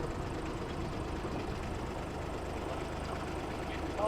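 A 1959 Fordson Dexta tractor engine idles with a steady, low, even rumble at moderate volume and no voices.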